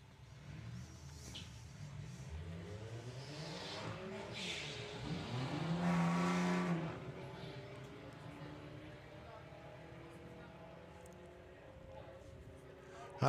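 VW drag race cars accelerating at Santa Pod, engines rising to a loud peak then fading into the distance, under continuous commentary.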